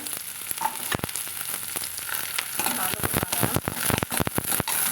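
Chopped shallots and three dried red chillies frying in hot oil for a spicy kara kuzhambu, a dense steady sizzle with crackling pops and occasional stirring, fairly close.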